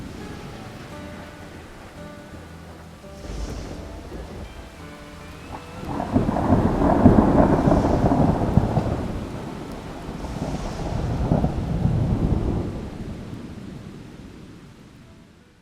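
A thunderstorm over a mountain crest, with rain pattering steadily while deep rolling thunder swells loud and close in two long rumbles before fading back to rain.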